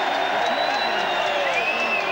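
A packed stadium crowd at a 1993 New Zealand versus Australia rugby league test roars steadily, a broad sustained swell of voices with a whistle-like tone rising over it.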